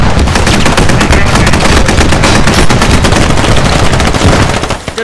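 Loud, close, sustained automatic gunfire from the tactical shooter Squad during a close-quarters base defense, rapid continuous bursts of shots that taper off slightly at the end, with no talk.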